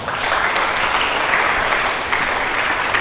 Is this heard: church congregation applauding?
yes